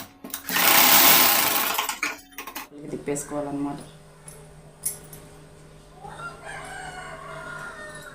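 A sewing machine runs fast in a loud burst while stitching a small-piece blouse joint, then stops; the machine's steady whir gives way to quieter handling, and a rooster crows faintly in the background.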